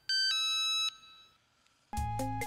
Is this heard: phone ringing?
yes